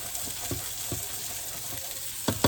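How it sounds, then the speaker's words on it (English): Pasta sauce sizzling steadily in a pan while being stirred, with soft scraping strokes at intervals and a couple of louder clacks near the end, no talking. "Stir it up and let that sauce start to thicken"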